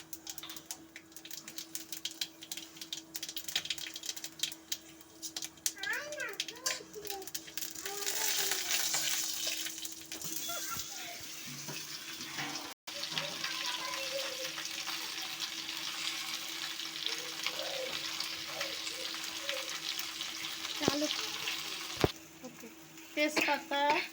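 Spices fry in hot mustard oil for a mango pickle, giving a continuous hiss and crackle with stirring scrapes, while someone talks intermittently over the sizzle.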